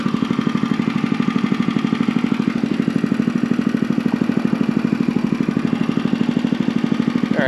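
A Honda GX small engine (GX120, GX160 or GX200) runs on lawn seeding equipment with a steady, rapid, chugging putter, close and fairly loud, evenly pulsing throughout.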